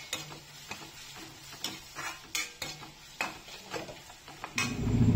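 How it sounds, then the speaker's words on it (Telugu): A spoon stirs ginger garlic paste through a carrot fry in a pan, with repeated scraping strokes in an uneven rhythm over a soft sizzle, and the frying swells louder at the end. "అల్లం వెల్లుల్లి పేస్ట్ వేసిన తర్వాత బాగా కలిపేసుకోవాలి."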